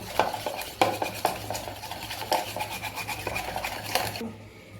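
Cream being whisked with powdered sugar in a bowl, a steady rhythmic scraping and tapping of the whisk against the dish, close up and without talk.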